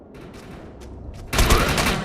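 Rapid gunfire from the video game Defiance, a dense burst of loud shots that erupts suddenly after a quieter stretch of soft rustling and background ambience, continuing steadily to the end.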